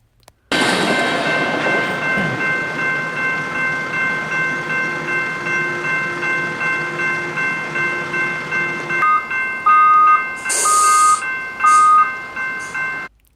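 A BNSF freight train rolls past with a loud, sustained horn blast over a heavy rumble, the tone breaking into shorter pulsing honks near the end before fading.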